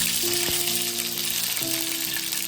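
Two sprigs of curry leaves drop into heated oil for a crispy yam fry, giving a steady, close sizzle with a sharp crackle near the start.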